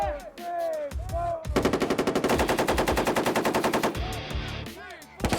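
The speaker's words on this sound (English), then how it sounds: "Talking guns is where you have two sets of guns, and one is going to be firing" Marine machine guns firing in the talking guns tactic, a loud sustained burst of rapid, evenly spaced shots lasting a few seconds, with other gunfire and a faint voice before and after.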